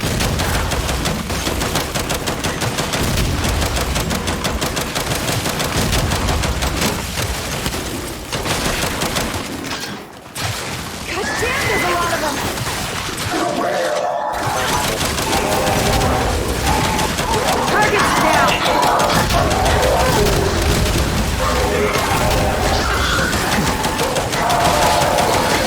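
Sustained turret gunfire in the shooter game Gears 5, a loud relentless stream of rapid shots with brief gaps around two short pauses, voices and other battle noise mixed underneath.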